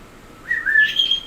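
A pet bird whistles and chirps indoors in one rising, sliding call lasting under a second, close and clear against a quiet background.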